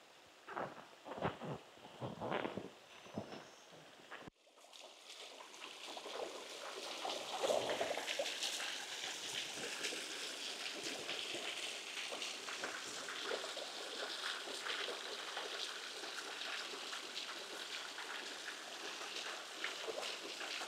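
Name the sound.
creek water flowing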